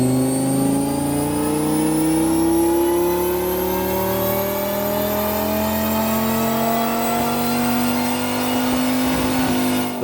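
A Dodge Viper's 8-liter V10, fitted with a new exhaust and running a stock tune, roars on a dyno in one loud, continuous pull that climbs steadily in pitch for the whole run.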